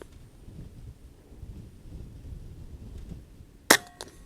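A single sharp crack from an Air Arms S510 .177 Stealth Carbine air rifle firing a 10.34 JSB pellet at a 50-yard target in the wind. A quiet breezy outdoor lull comes first, and a brief ringing tail follows the shot.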